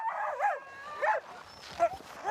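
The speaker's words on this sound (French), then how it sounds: "Charles a fait monter par téléphérique cette meute de 10 chiens" A pack of about ten sled dogs at a mountain winter sports resort barks, yips and whimpers in quick overlapping bursts, loud and close, with no talk over them.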